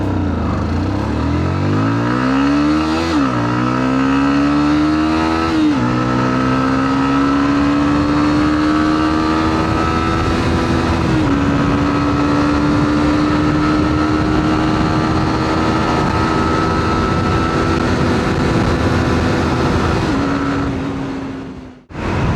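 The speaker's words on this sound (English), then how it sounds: "Let's launch this motorcycle." Yamaha R15 V2 motorcycle in Adrenaline Red launching hard, its engine climbing through several gear changes with brief dips between pulls, then a long loud steady drone before easing off at the end.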